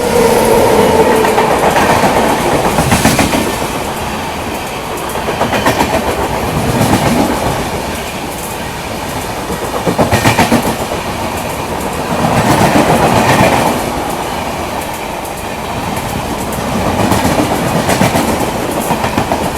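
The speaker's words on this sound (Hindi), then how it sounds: "चलिए उसकी क्रॉसिंग आपको दिखाता हूँ" An Amritsar–Kochi express train passes on the Konkan Railway, its carriages rattling by loudly in a rhythmic clickety-clack of wheel beats that rise and fall steadily without pause.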